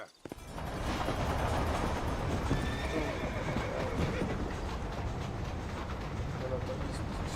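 A horse in the video game Red Dead Redemption neighs loudly over a steady clip-clop of hooves, with game ambience running beneath throughout.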